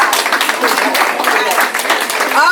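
Children and adults at a day-care visitors' day clap loudly and continuously after a children's song performance, a dense close-up burst of applause with voices cheering and talking mixed into it.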